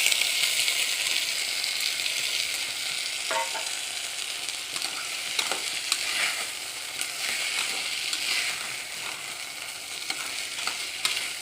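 Soaked sabudana tapioca pearls stirred in a hot pan, giving a steady close sizzle with soft scraping strokes of the spoon throughout, no voices.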